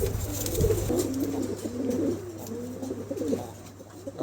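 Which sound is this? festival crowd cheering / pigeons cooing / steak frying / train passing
pigeons cooing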